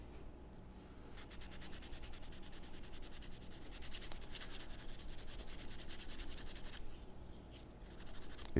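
A Scotch-Brite pad is scrubbed back and forth over the edge of a wooden Smith & Wesson revolver stock to strip its finish, making a faint, steady, rapid rasping rub that continues throughout without talk.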